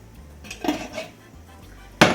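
Pan and utensil clatter as sauce goes into a pan for vegetarian burrito filling, a few soft scrapes and a sharp metallic knock near the end, close and sparse, no talk.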